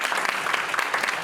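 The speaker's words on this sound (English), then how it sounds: "Another round of applause for the lady." Dense, continuous audience applause fills a room at a fireside chat with the CMS Administrator, steady and fairly loud throughout with no speech over it.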